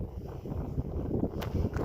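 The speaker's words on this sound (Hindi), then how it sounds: "यहाँ पे थोड़ी तेज़ हवा भी चल रही है" Strong wind blowing across the open Cholistan desert near a village of desert dwellings, a low, rushing roar with uneven gusts buffeting the microphone throughout, moderately loud.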